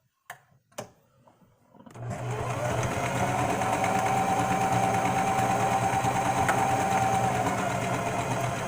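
After a few faint taps and handling knocks, a sewing machine starts up and runs continuously through fabric, giving a loud, steady motor whir with fast needle chatter and a thin whine riding on top.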